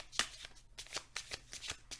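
Tarot cards are shuffled by hand in quick, riffling bursts, close and fairly soft, with no talking.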